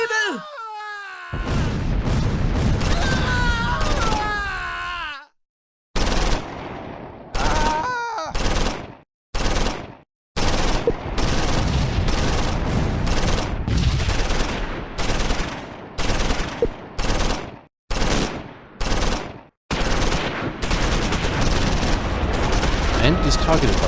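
Machine gun fire crackles through a Close Combat 4 Battle of the Bulge fight at Wiltz in December 1944, loud rapid bursts broken by brief silent gaps, with a strained voice crying out near the start.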